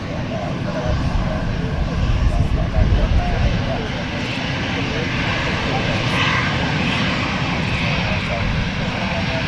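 EasyJet airliner at Manchester Airport, a loud, steady roar of jet engines filling the scene with broadband rumble and a slight swell midway, heard from nearby outdoors.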